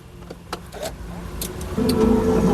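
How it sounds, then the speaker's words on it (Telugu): A Mahindra XUV 500 W10 engine cranks briefly and fires on the first try, then settles into a steady idle that grows louder toward the end, with faint clicks and mechanical noises beforehand. "సింగిల్ సెల్ఫ్లో కార్ స్టార్ట్ అవుతుంది"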